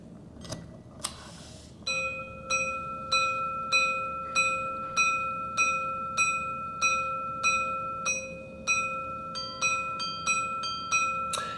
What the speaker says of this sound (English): 12 dongs for the hour and then 3 ding-dongs because it's past the 45 minute mark